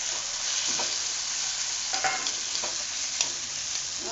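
Fried paneer sizzles in a hot pan with chilli sauce and red chilli powder, a steady hiss of frying broken by several clinks and scrapes of stirring, close up with no talking.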